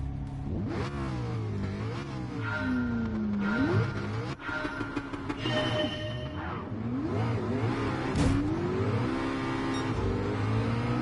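Race cars accelerating and revving off a grid start in the Gran Turismo 7 video game, several engines rising and shifting in pitch together, loud and continuous with no talking.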